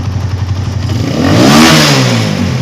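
A single-phase motorcycle engine, tested for its charging output, revs up from idle to high throttle and settles back, a loud close rising and falling roar lasting a couple of seconds.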